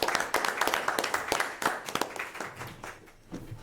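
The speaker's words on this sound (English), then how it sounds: "but I'd like a round of applause for Cindy." A small audience claps at a town select board meeting, a few hands patting in a loose, moderately near patter that thins out after a few seconds.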